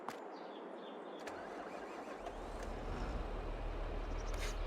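A tractor engine in the Farming Simulator 22 video game cranks and catches about two seconds in, settling into a steady, loud low rumble that builds to the end, with a few faint clicks beforehand and no talk.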